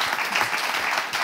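A studio audience on a French-language TV talk show claps briskly for a short moment, a close, even burst of applause without any talk.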